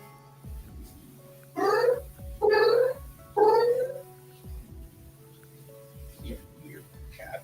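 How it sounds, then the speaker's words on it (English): A cat gives three loud, drawn-out meows in a row, close by, over a low steady hum, followed by a few softer sounds; a person talks briefly in the background. "Your cat."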